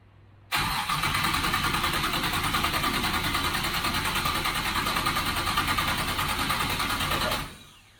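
An engine, troubleshot at the carburetor, fires up abruptly and runs at a steady, loud, even roar for about seven seconds before cutting off, close by with no talk.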